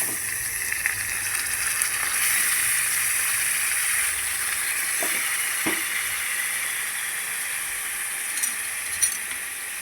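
Lemon-marinated chicken pieces hit a hot spice tempering for a dry Maharashtrian chicken dish, a steady bright sizzle and hiss filling the whole stretch, with a few soft clinks and stirring taps close by.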